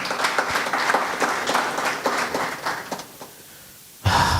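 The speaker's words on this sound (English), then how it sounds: "can I give them a round of applause" Audience at a track and field meet launch applauding sponsors: a thin smattering of claps that fades out, a near-silent pause, then a loud burst of sound at the very end.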